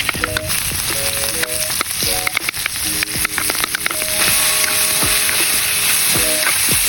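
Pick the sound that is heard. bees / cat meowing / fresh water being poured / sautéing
sautéing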